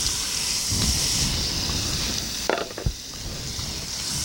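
Onions sizzle in melted butter in a soup pot for broccoli cheddar soup, giving a steady close hiss with a couple of brief clinks of a utensil against the pot.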